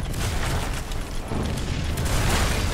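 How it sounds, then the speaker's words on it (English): Explosions and cannon blasts in the VR naval combat game Battlewake, a dense, continuous roar of booming impacts lasting throughout, loud and close with no talk over it. "Watch out for those explosions!"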